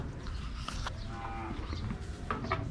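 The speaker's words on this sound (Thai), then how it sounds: "ดูเอาครับพี่น้องวัวเหนือนะครับ" Cattle low at a cattle and buffalo market in Wang Prachop, Tak, Thailand, with long moos rising over a busy, noisy crowd background.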